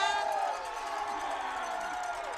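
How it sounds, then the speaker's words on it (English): Home crowd and sideline at a Friday night high school football game between Manalapan and Red Bank Catholic cheer after a first down, a broad, steady roar of distant voices holding for a couple of seconds. "And there's a reaction from the home crowd and the home sideline."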